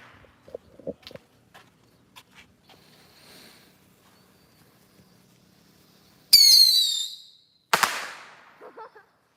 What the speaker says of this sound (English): The kids lit off like 1 firework each, and now they think they can do 2 at the same time.